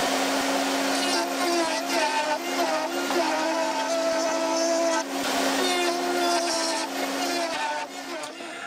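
Router cutting an 8 mm groove into beech wood for a workbench clamping system, a loud continuous high-pitched whine with steady tone that dips slightly near the end.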